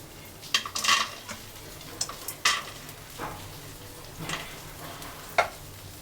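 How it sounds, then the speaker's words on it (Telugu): Nut pieces fry in oil in a kadai while a metal spoon stirs and scrapes against the pan, giving a soft steady sizzle broken by sharp clinks and scrapes, close and without talk. "ఇప్పుడు పలుకుల్ని ఫ్రై చేసుకుంటున్నాం"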